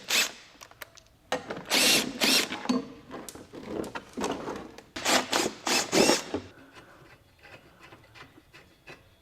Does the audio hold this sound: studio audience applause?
no